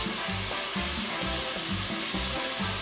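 Sofrito added to a pot of chicken soup, a loud steady hiss of sizzling with a faint rhythmic stirring pulse underneath, close and continuous with no voice.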